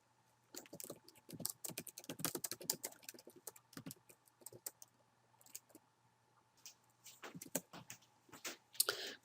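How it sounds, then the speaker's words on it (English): Fingers type a short message on a computer keyboard, quiet close clicking in quick irregular bursts with a pause midway, over a faint steady hum. "so I've typed my little message in there"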